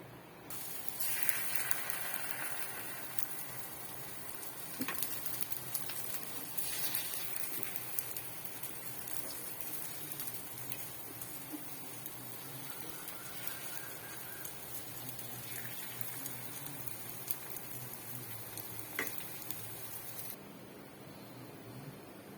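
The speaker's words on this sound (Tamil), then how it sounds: "கொஞ்சம் எண்ணெய் சேர்த்துட்டு மூடி வச்சு வேக வச்சுக்கலாம்" Sweet banana and semolina kuzhi paniyaram cook in oil in a covered pan, giving a steady, soft hiss and sizzle with faint crackles throughout, heard alone at low volume.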